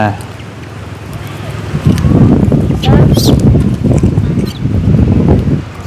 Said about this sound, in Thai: ลมหนาว